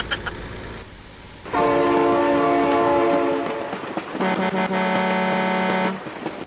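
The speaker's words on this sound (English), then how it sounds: "Oh my god, train!" A train in BeamNG Drive thunders past with its horn blaring loudly in two long blasts, the second lower in pitch, over a heavy rolling rumble and rail clatter, with no talking.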